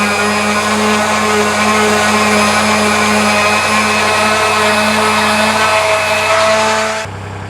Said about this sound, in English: I didn't actually have enough power to run the sander.